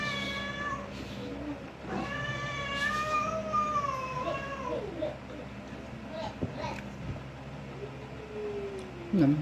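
A cat meows in several drawn-out, rising and falling cries, close and clear, with a final yowl near the end, while a person talks at intervals over a faint background hum.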